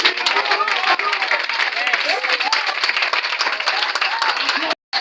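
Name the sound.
congregation applauding to acclaim Christ in church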